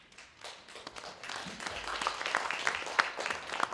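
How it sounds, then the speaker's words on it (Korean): Audience applause at an international academic conference, faint clapping that starts soft and builds into a steady, moderately distant round of hand claps. "큰 박수로 부탁드리겠습니다."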